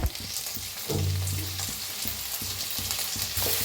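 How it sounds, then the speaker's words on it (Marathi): Onion, green chillies and tomato sizzle and fry in a pan, with repeated stirring scrapes punctuating the steady crackle, close and moderately loud with no talk. "ह्याला भी मिक्स करून भाजून घेऊया, टमाटोला भी"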